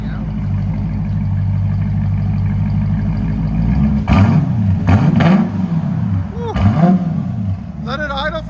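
A 2025 Dodge Durango R/T with a 5.7L HEMI V8, X-pipe and Carven R-Series exhaust idles with a deep rumble, then roars through several sharp revs up close.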